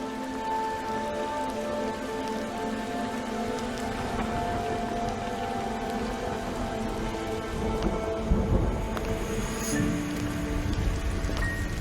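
Steady, dense rain falls throughout a Honkai Impact 3rd character trailer, with a low thunder rumble swelling near the end, all layered under sustained music.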